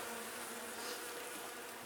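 Yellowjacket wasps buzz steadily around the bottom brood box of a queenless beehive being robbed, a close, continuous insect drone with no talk.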